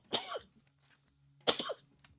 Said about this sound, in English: I've had this cough for ages